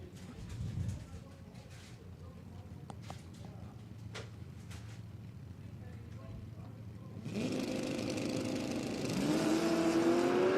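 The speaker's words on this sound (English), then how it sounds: "Sean Tasker's going through the burnout in his 477 Garage Capri" A Ford Capri drag race car at Willowbank Raceway does a burnout, heard fairly distant: a quiet track ambience with faint voices and brief ticks gives way to a rising engine roar and tyre screech in the last few seconds.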